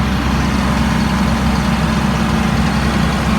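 A 2004 Blue Bird All American 72-passenger school bus sits idling, its engine giving a loud, steady low rumble with no change in pace throughout.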